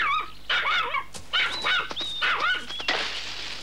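A cartoon dog yips and barks in a quick run of high, whiny, excited calls, close and fairly loud with no talking over them.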